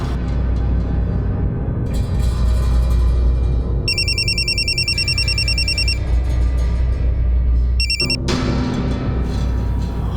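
A telephone rings in repeated electronic bursts over a steady dramatic music bed in a crime drama scene, the ringing breaking off and then returning briefly near the end.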